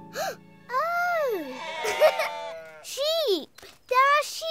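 Sheep bleating in a cartoon: several long, wavering, voice-like bleats rising and falling, close and loud, arriving in separate bursts with brief gaps between them.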